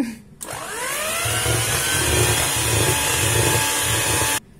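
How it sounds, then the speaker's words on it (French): Electric whisk beating butter with a little flour in a bowl, starting with a sharp rising whine and then a steady whir with a faint rhythmic scraping for about four seconds, close and alone before it cuts off. "je vais venir rajouter un petit peu de farine, pas toute la farine, et je vais mélanger encore, fouetter"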